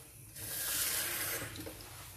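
Water poured into a dish while preparing a Tunisian mulukhiyah marinade with oil and herbs, a close steady splash that rises and then trickles off over about two seconds, with no talking.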